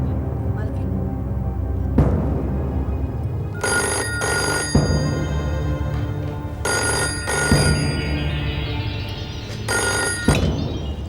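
A telephone bell rings in repeated bursts, each lasting about a second, at moderate loudness over a steady background hum, with people talking in between the rings.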